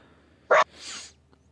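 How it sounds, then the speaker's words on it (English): A single sharp sneeze bursts out close to the microphone, followed by a softer breathy exhale trailing off into quiet. "Bless you if that was a sneeze."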